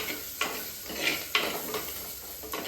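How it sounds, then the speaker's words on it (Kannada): Water coming to a boil in a clay pot on a stove, with soft bubbling and a few brief sharp crackles rising over a steady low hiss, heard close and fairly quiet. "ಈಗ ಈ ಕಡೆ ನೀರು ಕುದೀತಾ ಇದೆ."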